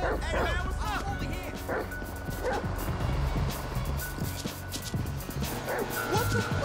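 Chop the dog barks repeatedly in GTA V, sharp close woofs and yips in quick bursts across the clip, mixed with game noise and a voice talking over them.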